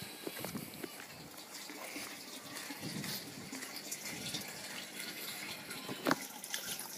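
Water runs into an aquaponics system through a small pipe beside the grow beds, a steady, soft trickling gush with splashy surges and faint clunks, continuous and close.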